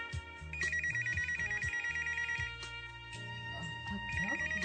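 A telephone rings in repeated trilling bursts, with a pause between rings, while background music plays underneath.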